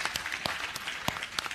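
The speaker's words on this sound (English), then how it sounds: "So you all deserve a round of applause as well." Audience applause at a live conference stage event, a short burst of close, dense clapping from a large crowd.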